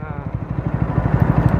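A Bajaj Pulsar NS160 BS6 motorcycle fitted with a modified exhaust idles close by, giving a loud, rapid, evenly pulsing low rumble throughout.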